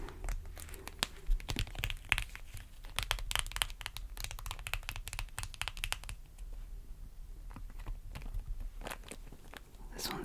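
Bag of frozen green vegetables shaken and crinkled close up, with dense rattling clatters and plastic crunching in irregular bursts, quieter after midway.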